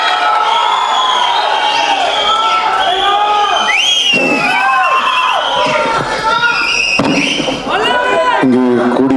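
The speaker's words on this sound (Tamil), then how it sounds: "ப்ளீஸ் ஒரு பெரிய கைத்தட்டல்" A crowd at a Tamil film pre-release event cheers and whistles for the actor STR, loud and continuous with shouting voices and scattered clapping throughout.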